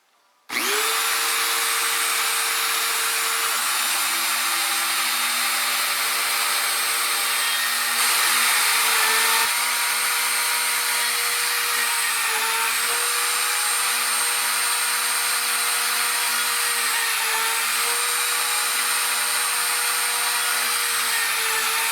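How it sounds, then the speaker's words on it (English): A steady, loud mechanical whine of a drill press runs continuously, its pitch dipping briefly several times as the bit bites into leather. "let's go ahead and drill these out"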